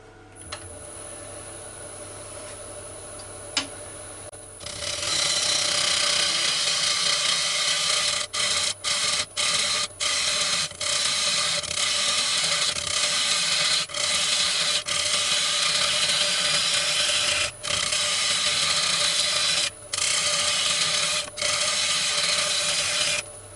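Wooden bowl rim being carved down on a lathe: after a few quiet seconds, a loud continuous abrasive rasping starts and runs steadily, broken by brief regular pauses.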